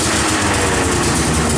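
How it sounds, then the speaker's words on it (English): A small pull-start engine idles near the microphone after a carburetor cleaning, a loud, even, continuous running rumble with no speech. "Started up, idling about 1600 RPM, so everything seems to be running just right"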